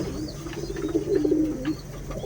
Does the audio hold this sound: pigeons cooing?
yes